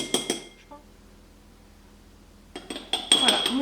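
A spoon scrapes and clinks against a glass verrine while cream is scooped in for a fruit tiramisu, a few bright metallic taps close by, then a pause before clattering resumes.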